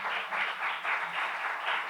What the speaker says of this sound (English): And Danny, you can clap